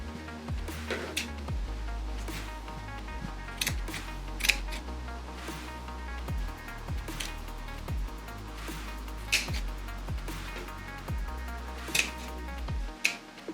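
Scissors snip away excess material while a prop is being made for a retro cyberpunk photo shoot, giving a run of sharp close cuts and clicks against a low background hum.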